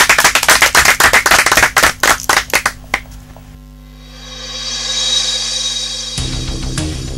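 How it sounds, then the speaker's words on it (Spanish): Short burst of clapping from a small group closing a university dental radio programme, a few seconds of quick hand claps that thin out into single claps before giving way to music. "Un aplauso."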